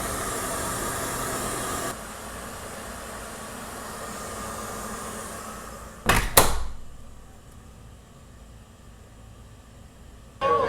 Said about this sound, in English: Here I have some pretty loud white noise, which should mimic a little bit of everything.